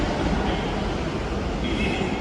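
Train noise at a busy Hyderabad railway station, with a steady loud rumble of rolling stock and a couple of faint higher squeals over the din.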